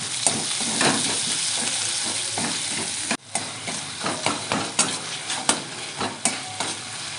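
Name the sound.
chopped tomato frying with onion, ginger and garlic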